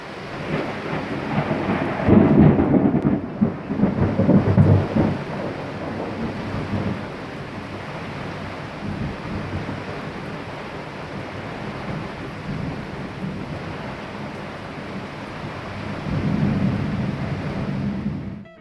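Heavy rain pours steadily while deep rolls of thunder rumble early on and again near the end, a full thunderstorm with no voices.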